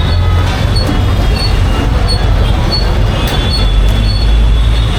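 A loud, constant rumble of a metro train running on the tracks in India, with a deep low drone and faint high squeals, no talking.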